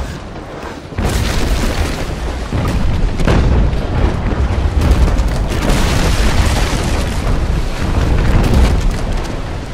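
Deep, sustained booming from naval cannon broadsides and hull impacts in the age-of-sail game Naval Action, a dense rolling barrage that stays loud and continuous after a brief quieter opening.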